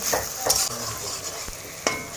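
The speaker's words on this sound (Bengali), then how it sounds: "এই পেঁয়াজগুলোকে হালকা ব্রাউন ব্রাউন কালারের করে ভেজে নেব।" Onions fry in hot oil with a steady sizzle, while a spoon stirs them and scrapes the pan in a few sharp bursts.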